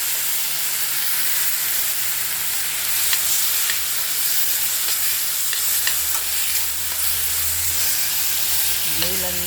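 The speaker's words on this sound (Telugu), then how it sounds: "యాపిల్ తురుము వేయించుకోవాలి" Grated apple frying in a pan for apple halwa after cashews were roasted, a loud, continuous close hiss of steam and sizzle with faint stirring scrapes throughout.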